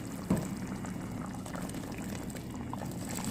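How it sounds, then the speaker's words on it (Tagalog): Water poured into a cooking pot of chicken with black lemon, a soft, steady liquid rush close by after a brief clunk at the start, with no talking. "Ayan, maglagay tayo ng tubig guys."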